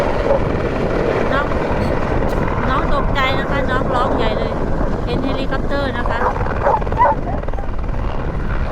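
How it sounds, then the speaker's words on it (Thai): A helicopter's loud, continuous rotor drone fills the scene at an Arctic sled-dog site, with people talking and a sled dog barking intermittently over it. "ตรงนั้นจะเป็นเฮลิคอปเตอร์ค่ะ"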